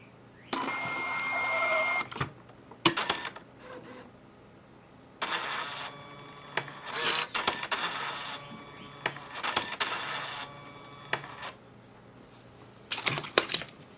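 A Catalina receipt printer running after a reset, with several bursts of whirring, rattling mechanical printing separated by short pauses and clicks, close and fairly loud, with no voices.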